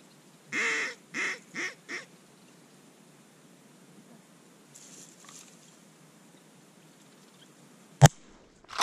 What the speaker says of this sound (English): We got mallards.